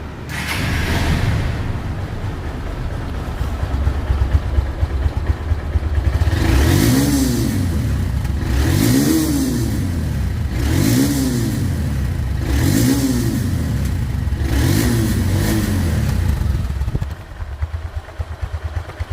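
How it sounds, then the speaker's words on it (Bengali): A 2022 Honda Hornet 160cc double-disc motorcycle, second-hand, is revved hard in about six rhythmic throttle blips, each rising and falling in pitch every couple of seconds, loud and close, before settling back. "এই গাড়িটির সাউন্ড শুনলে আপনারা বুঝতে পারবেন যে গাড়িটির ইঞ্জিন কোয়ালিটি কেমন আছে"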